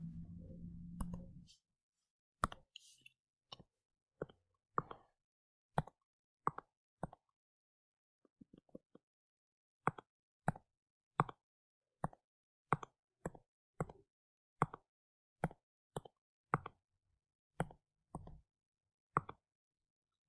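Calculator keys are pressed one at a time while numbers are typed in: a long run of crisp, close plastic clicks in an uneven rhythm, some grouped quickly and others spaced out, with a short low hum at the start.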